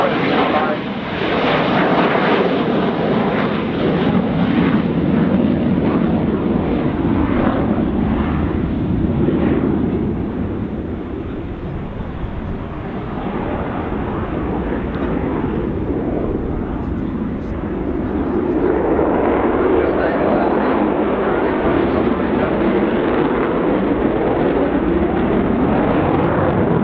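An Avro Vulcan bomber at the RIAT 2013 airshow roars past with a deep, sustained engine rumble that swells and shifts across the whole pass, loud and continuous, with a voice faintly audible beneath it.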